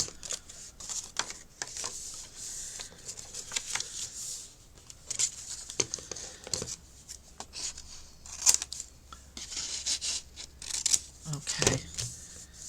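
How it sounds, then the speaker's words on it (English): Scissors trimming paper inserts for a handmade envelope journal, giving a run of crisp, close snips and rustling paper handling in irregular bursts, with quiet movement between cuts. "I'm just trimming."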